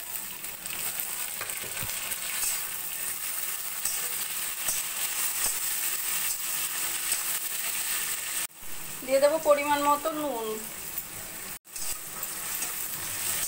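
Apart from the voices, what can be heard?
vegetables stir-frying in a pan for hakka noodles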